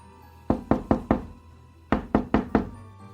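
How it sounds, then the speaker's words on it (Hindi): Knocks on a car's glass window in an audio-story sound effect: two clear bursts of four sharp, evenly spaced raps, close and distinct, separated by a short pause, with no voices. "आंख लगने के तकरीबन 5 मिनट के बाद ही किसी ने उनके शीशे पर दस्तक दी।"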